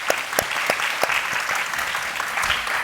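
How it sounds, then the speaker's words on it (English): Audience applause at a literary evening as an author and journalist is welcomed to the stage, a dense, steady patter of many hands with a few sharper claps standing out, moderately loud throughout. "perhaps we can give her a little applause."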